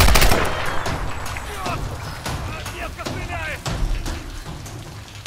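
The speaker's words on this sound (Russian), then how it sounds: "Может быть, я метко стреляю." Gunfire in the Tomb Raider video game: a series of sharp shots at irregular intervals, loud and close, with a voice talking between them.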